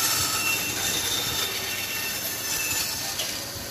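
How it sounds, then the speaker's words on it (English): A bandsaw blade cuts wood and backs out of the kerf, giving a continuous loud, close whine with a bright, hissing high edge and a rough rumble below, with no pauses. "How many of you have a bandsaw that can back out of that without pulling the blade?"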